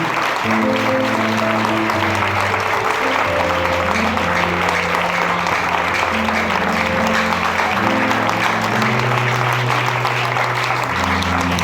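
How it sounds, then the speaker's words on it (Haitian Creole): Sustained applause from a church-style audience, dense steady clapping throughout with an organ or keyboard playing low chords underneath. "pour que nous applaudissons plus fort"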